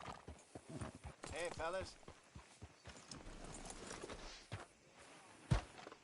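Horse hooves clip-clop in the Red Dead Redemption 2 video game, a few soft irregular steps heard under speech and a brief whinny-like voice, with people talking over the sparse hoofbeats.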